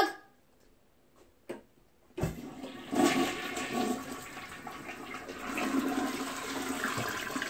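A household toilet flushing with a sharp click of the handle, then a loud rushing of water that swirls and gurgles steadily for several seconds, close by, with no voices.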